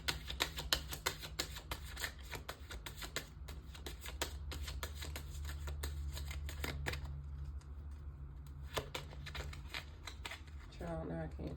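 Tarot cards are shuffled by hand in rapid riffling bursts, the crisp flicking repeated closely for several seconds before pausing, with a voice talking over parts of it.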